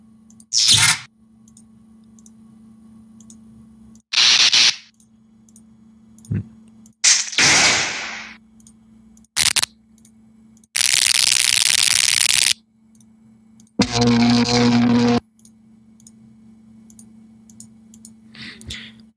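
Odd test sound files from the video game GTA 5 play one after another, as separate bursts of harsh noise, buzzy hums and sharp synthetic tones. Short gaps with a faint low hum fall between them.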